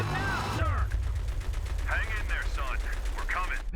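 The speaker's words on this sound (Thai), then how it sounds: "เสียงปืนนะครั้ง" Rapid bursts of gunfire in Battlefield 3 crackle in quick succession, loud and sharp, while a voice speaks over parts of it.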